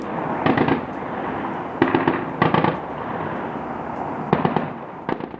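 Missile strike blasts on the outskirts of Kyiv, heard as a series of sharp, crackling bursts over a steady rumbling background, with several clustered bangs spaced irregularly across the stretch.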